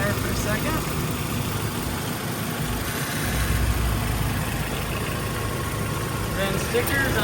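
A 2004 Toyota Tacoma's 2.4 liter four-cylinder engine idles steadily and close by, a smooth continuous hum that stays even throughout with no distinct revving.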